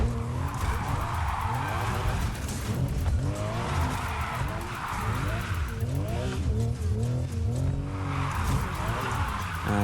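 Subaru BRZ with a Rocket Bunny body kit drifting in Need for Speed Heat, its engine droning steadily while tires squeal in long repeated waves, loud and continuous, with someone talking over it.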